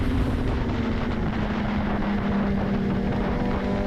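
On-board engine noise from a vintage race motorcycle out on track, a loud steady droning roar with a sustained low hum and no breaks across the whole stretch.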